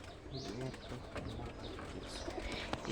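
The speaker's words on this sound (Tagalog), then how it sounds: "So ito nga pala kalapati na to." A pigeon coos softly in low, rolling notes, faint and somewhat distant, with quiet background activity and a brief click near the end.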